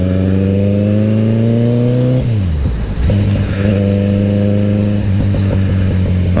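Kawasaki Z900 motorcycle engine under way, loud and steady, revving up through the gears with a dip and shift around the middle before climbing again, close and continuous.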